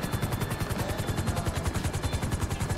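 Steady rhythmic thumping of a helicopter rotor in Grand Theft Auto V Online, with a constant mechanical whine above it, loud and close, continuing throughout with no voices.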